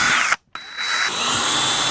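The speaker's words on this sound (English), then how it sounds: "So we're gonna pre-drill 2 holes." A power drill pre-drilling holes in wood whines at high speed, cuts out for a moment, then spins up again and runs steadily, loud and close.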